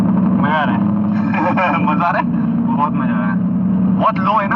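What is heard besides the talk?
Ford Mustang GT car engine while driving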